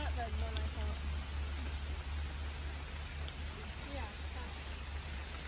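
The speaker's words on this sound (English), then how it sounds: "it is, as you can see and hear, pouring." Steady, dense rain hisses continuously on a woodland campsite, close and fairly loud, with a few faint voices or calls in the background.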